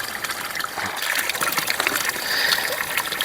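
Cold spring water flows from a source in the Bani Sarthal valley of Kathua, a close, continuous rushing and splashing stream that swells slightly toward the end, with no talk over it.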